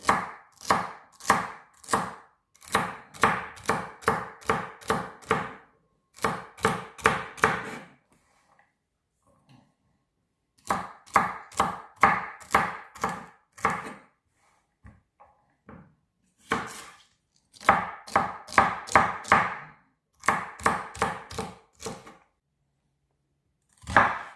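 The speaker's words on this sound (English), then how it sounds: "So we'll start with our celery for the base. Chop it up, medium." A knife chops celery on a cutting board for chicken soup, in quick rhythmic runs of crisp, close strokes with brief pauses between bursts and no talking.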